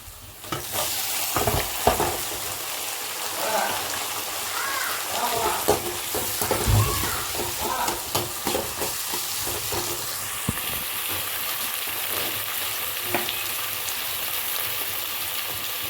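Tomatoes frying in a kadai for a radish and dried fish curry, a continuous crackling sizzle with periodic stirring scrapes and clatters, close up and with no one talking.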